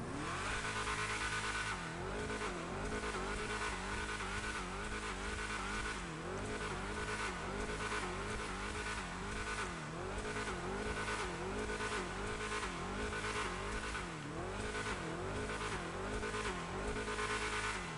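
A V8 car engine in GTA Online revs and roars continuously and loudly, with repeated rising and falling surges and some tire squeal, filling the whole stretch without any talk.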